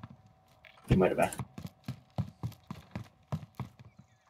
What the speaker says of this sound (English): No, I hear footsteps.